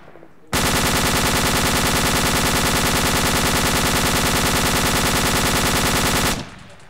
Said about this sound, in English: I'm going to open fire.